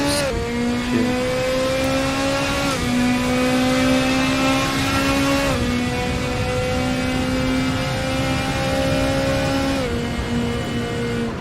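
An LMP2 prototype race car in a Le Mans racing video game screams at high revs without a break, its engine pitch climbing steadily and then dropping sharply at each of several upshifts, loud and close.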